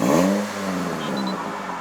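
A 2015 Toyota Corolla Altis 2.0V engine starts with a brief rev that drops and settles into a steady, close idle. No one speaks.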